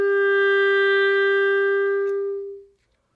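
A single sustained A on a clarinet, played with a small teardrop-shaped key, rings steady and clear for over two seconds, then fades out, alone with no talking.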